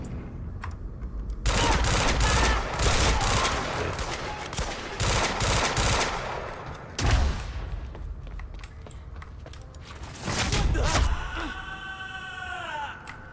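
Suppressive automatic gunfire in Quantum Break, with long, loud volleys of rapid shots from close range, several bursts separated by brief gaps, and a final burst followed by a whine.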